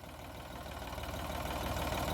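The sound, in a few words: tractor engine running while stuck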